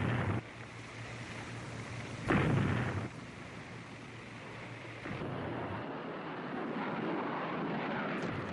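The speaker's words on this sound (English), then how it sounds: "U.S. aircraft and warships continued to attack transportation targets" U.S. military aircraft attacking transportation targets during the Vietnam War make a loud, sustained roar, with a heavier rumbling burst near the middle and a steady rushing drone to the end.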